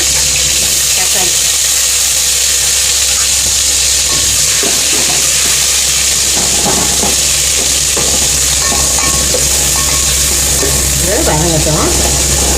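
Onion, green chili and tomato sautéing in a pan with mustard seeds for fish kuzhambu, a loud constant sizzle over a strong hum, with occasional stirring and a voice talking at times.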